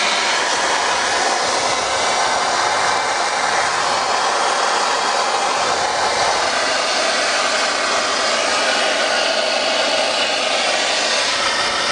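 Steam locomotive NZR WF 871, built by David Watt, blows down with its tanks emptying: a loud, unbroken roaring hiss of escaping steam and water that holds steady throughout, with no talking.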